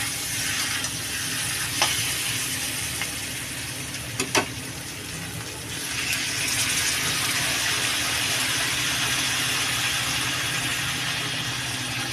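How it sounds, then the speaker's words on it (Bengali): Water poured into a cooking pan of spiced potato and pointed gourd, giving a steady rushing, sizzling wash that runs the whole time, with a few brief clinks near the start. "এবার আমি দিয়ে দেবো জল"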